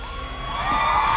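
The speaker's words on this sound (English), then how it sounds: "That's a big cheer" A big crowd at a live televised event cheers and whoops loudly and steadily, the roar swelling a little toward the end, with no talk over it.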